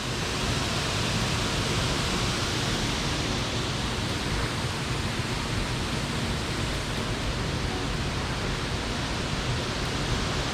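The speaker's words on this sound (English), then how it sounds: "Then there's a little minor waterfalls slithering down the rock face there." Small waterfalls slither down a rock face at Foster Falls, a dense, even rush of falling water heard up close and unbroken throughout.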